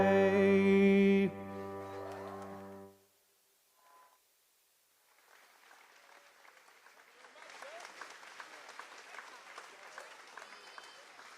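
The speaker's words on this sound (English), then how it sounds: "let's give both of our musicians here in Graves County another round of applause" An outdoor crowd at the 146th annual Fancy Farm Picnic in Graves County, Kentucky, applauds musicians; after the closing sung notes and a short pause, scattered claps build into sustained moderate applause from a distance.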